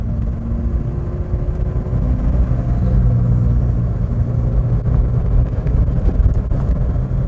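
A 1983 Toyota Starlet KP61 with rear-wheel drive accelerates at full throttle, its engine a steady low droning rumble mixed with road and wind noise inside the car, no voices.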